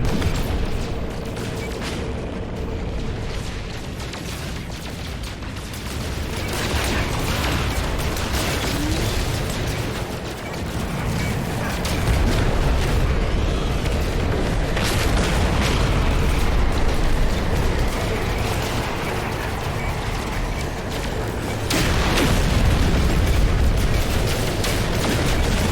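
Repeated heavy rocket explosions and booming blasts from a space battle in No Man's Sky, loud and continuous over a dense rumbling game soundscape, with several sharp bursts standing out.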